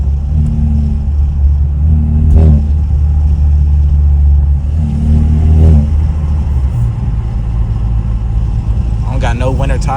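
A BMW F30 328i with a stage 2+ tune drives through snow late at night, its engine rumbling loudly with a couple of revving surges, while someone talks over the steady drone.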